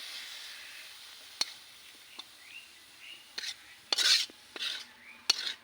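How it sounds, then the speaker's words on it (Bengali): Fresh potato greens being stirred and tossed in a pan in a village kitchen, with soft scraping clinks of a utensil against the metal and a faint sizzle, a few sharper knocks spaced through the stir. "আরেকটু নেড়ে চেড়ে নিচ্ছি"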